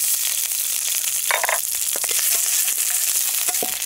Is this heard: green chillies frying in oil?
yes